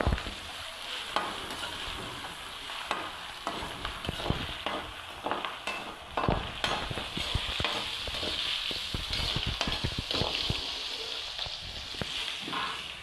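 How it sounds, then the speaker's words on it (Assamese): Crushed ginger and garlic sizzle and fry in hot oil for pork gravy, with steady crackling and repeated scraping stirs of a spoon against the pan, close and continuous throughout. "আৰু মই ইয়াত খুন্দি থোৱা আদা নহৰু অলপ ইয়াত দি দিছোঁ আৰু ভালদৰে লৰাই দিছোঁ"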